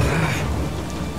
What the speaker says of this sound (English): It's raining a bit, isn't it?